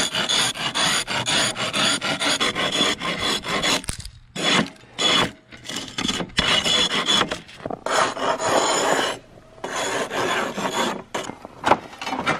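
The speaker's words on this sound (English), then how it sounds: "Our square will double as an ice scraper." A framing square scraping ice buildup off lumber in -8°F farm weather, loud rasping strokes in quick bursts with short pauses between.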